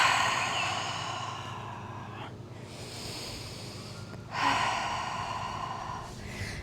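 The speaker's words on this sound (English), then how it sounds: "Just take a few breaths. You can exhale through your mouth." During a yoga cool-down, two long, breathy exhales through the mouth, close and soft, separated by a short quiet pause.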